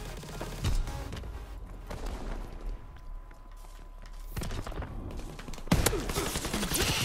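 Call of Duty WW2 gunfire during a one-gun free-for-all match: scattered loud shots and short bursts at intervals, some near and sharp, others more distant, over low rumbling battlefield ambience.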